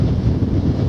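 Strong wind buffets the microphone on a coastal clifftop walk near West Lulworth on the southwest coast path, a steady low roar filling the short moment with no voices.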